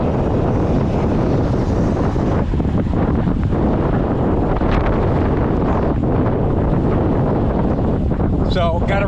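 Strong wind buffets the microphone while riding a Zooz electric bike, a loud continuous low roar with no letup, and a few faint higher tones near the end.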